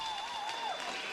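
Home crowd cheering at a para ice hockey game between Korea and Norway in Jessheim, a steady, dense roar of voices and applause filling the arena with a whistle-like tone drifting above it.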